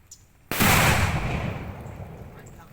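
A Rebel firecracker goes off with one loud, close blast that cuts through near-silence and leaves a long, rumbling decay as the smoke spreads.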